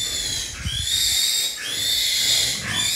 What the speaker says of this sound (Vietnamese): heo con nhiều lắm.